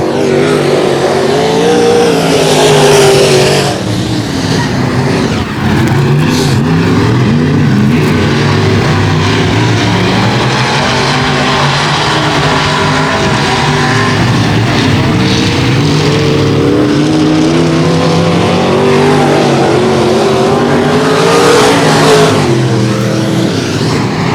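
Loud dirt track race cars roar around 281 Speedway, engines droning and revving continuously as the pack passes, with pitch rising and falling as cars go by and a race announcer talking over them.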